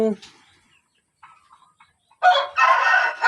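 Chickens on a farm, including a sick bird: a few soft clucks and a brief voice come first, then a loud, close rooster crow bursts out over the final second.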